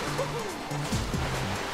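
Water rushes steadily from a waterfall in the video game Super Mario 3D World, a continuous broadband roar with game music and small effect tones playing over it.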